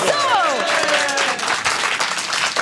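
A crowd applauds steadily at a French presentation, a dense wash of clapping that fills the whole stretch, with a brief voice and whistle-like tones at the start.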